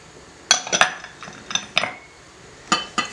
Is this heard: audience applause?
no